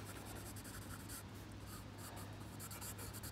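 A charcoal pencil scratches and rubs across paper in short strokes, sketching tree branches, faint and close over a steady low hum, with no talking.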